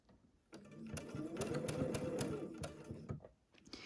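A sewing machine stitches quilt fabric in a quarter-inch seam for a Tula Pink butterfly quilt, running in one steady, rapid burst of needle strokes for about two and a half seconds with quiet pauses before and after.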